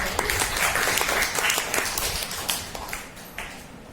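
Audience applause at a positive-lifestyle class for teenage girls: a modest group claps in uneven bursts that thin out and fade over about four seconds.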